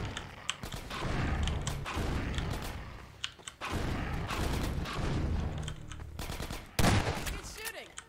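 Repeated gunfire bursts and mechanical clatter from the video game Half-Life 2 Episode Two, loud and dense across the whole stretch with brief pauses and one sharp louder blast near the end.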